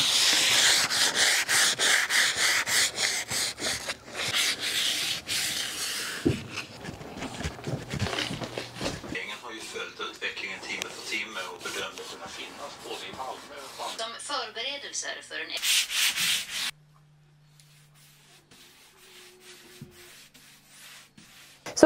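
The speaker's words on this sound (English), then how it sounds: "So I'll just do a light sanding and then we'll do another coat." Light hand sanding of a water-based finish on a wooden round table made from hardwood flooring, a steady rasping rub up close that runs for most of the stretch before stopping; a voice talks over parts of it.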